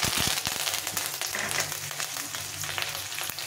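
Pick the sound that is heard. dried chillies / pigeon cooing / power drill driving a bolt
dried chillies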